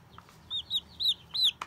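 Chickens cluck on a farm: four distinct, fairly loud calls in quick succession with short gaps between them, standing alone with no talk over them.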